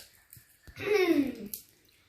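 Water splashes briefly over hands being washed for wudu, a short close splash and trickle lasting under a second, with a faint voice at the edges.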